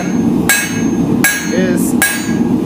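Blacksmith's hammer striking a hot metal bar on an anvil while twisting it during forging of a leaf, three loud ringing blows spaced evenly and close up.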